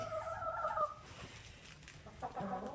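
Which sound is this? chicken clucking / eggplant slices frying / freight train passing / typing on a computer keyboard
chicken clucking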